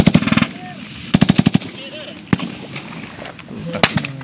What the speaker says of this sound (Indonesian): Sniper, may sniper. May pumutok.